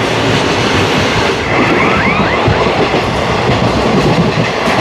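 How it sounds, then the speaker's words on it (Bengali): A goods train rumbles past on the line near Madanpur station in a loud, continuous roar of wheels and rail clatter, with a faint squeal partway through; no voices. "মালগাড়ি চলে যাচ্ছে।"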